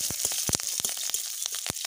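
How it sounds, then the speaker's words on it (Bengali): Black mustard seeds and split green chillies crackle and pop in hot white oil, a dense sizzle broken by sharp spattering bursts close by. "তেলে সর্ষে পড়তে কত দূর দূর ছিটকে যাচ্ছে বন্ধুরা"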